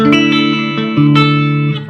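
Electric guitar played clean through a vintage Mark III treble and bass amplifier with a bright, sparkly tone: a few ringing, sustained notes and chords with reverb tails, close and loud, no talking.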